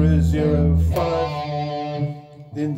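Palm-muted electric guitar riff from Doom, a distorted, chugging low-string pattern played alone up close with a short gap and tight, damped attacks.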